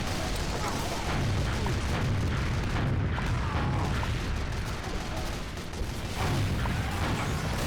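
Booming explosions and gunfire in the game Team Fortress 2, heavy blasts rumbling amid steady combat noise, ending in the player's own self-inflicted blast.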